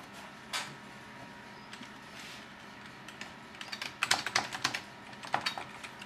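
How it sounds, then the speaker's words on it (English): Password being entered on a computer keyboard, a sparse scatter of quiet key clicks that turns into a quicker cluster of close taps, in a hushed room with no talking. "so I'm entering that password now"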